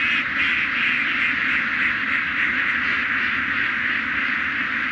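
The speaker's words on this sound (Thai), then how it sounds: "เป็ดยังเยอะ" A large flock of ducks quacks constantly in a field, forming a dense, steady chorus of overlapping calls with no talk.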